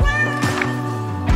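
A cat gives a drawn-out meow, fairly close and loud, with a short break in the middle of the call.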